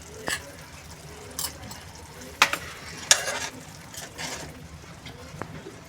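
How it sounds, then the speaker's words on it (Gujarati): Cooked peas are crushed in a pot with a spoon while making ragda. Scattered close scrapes and soft clunks sound over a faint sizzle, with some quiet talk in the background. "આવી રીતે થોડા વટાણાને બી ક્રશ કરી દેવાના"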